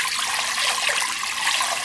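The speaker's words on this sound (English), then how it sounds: "First thing, you need lukewarm water," Lukewarm water pours steadily for cooking polenta, a continuous close, loud rushing splash with no pauses or voices.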